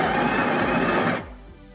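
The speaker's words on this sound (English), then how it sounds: "Press the start to grind and push to release the portafilter into the grind." A Breville espresso machine's built-in grinder whirs loud and steady for just over a second, then cuts off, leaving quieter room sound.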